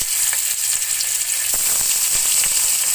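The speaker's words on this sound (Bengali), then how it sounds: "এখন এটা আমি হালকা করে ভেজে নিব" Pieces of magur catfish, cleaned and rubbed with salt, turmeric and chilli, fry in hot oil in a kadai, giving a loud, continuous crackling sizzle with sharp pops and spits close up.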